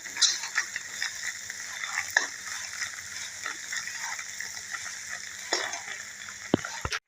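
Paneer paratha filling being stirred in a pan, with a steady frying hiss and scattered scraping clicks of a spatula against the metal, close and moderately loud throughout.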